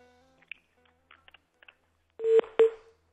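Faint clicks and crackles on a phone line, then two short, loud beeps of a call-ended tone, with quiet stretches between.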